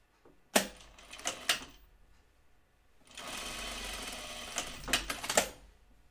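A sewing machine stitches a dress in two bursts, a short run with sharp clacks followed by a longer steady whirr of fast stitching, with a short pause between them.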